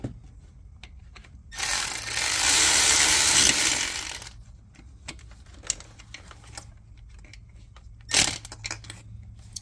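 Ratchet tightening a bolt near the intercooler pipe on a Mercedes S550 W222 M278 engine, heard as a loud steady rasping burst of about three seconds, followed by scattered light clicks and a short sharp knock near the end.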